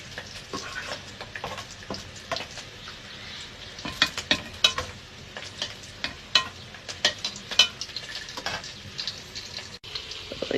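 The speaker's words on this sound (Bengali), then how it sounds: "আদা রসুন কষিয়ে নিচ্ছি।" Onion, ginger and garlic fry in a pan under a soft background sizzle, cut by frequent sharp scrapes and clacks of a spoon stirring, irregular and close, with no speech.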